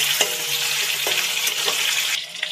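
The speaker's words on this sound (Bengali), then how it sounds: "এই তেলেই দিয়ে দেবো চিকেনগুলো" Chicken pieces fry in hot oil already used for potatoes, with a dense, even sizzling hiss and a few soft knocks from stirring throughout.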